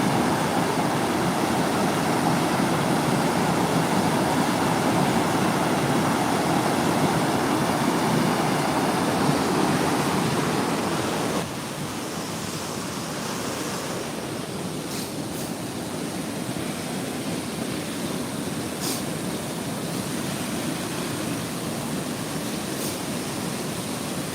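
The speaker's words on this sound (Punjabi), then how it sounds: "ਸਪੀਡ ਨਾਲ ਪਾਣੀ ਨਿਕਲਣ ਕਰਕੇ ਦੀ ਆਵਾਜ਼ ਆਉਂਦੀ ਆ" Loud, continuous roar of fast-flowing water rushing past, steady and broadband, easing slightly partway through, with no talking.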